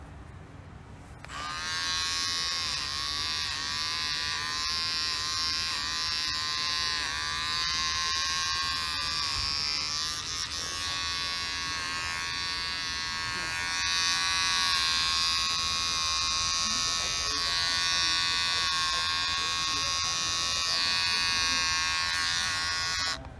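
Electric hair clippers set to a 3 millimeter guard buzz steadily and loudly while cutting the sides of a man's hair at home, a continuous whining hum that swells slightly partway through.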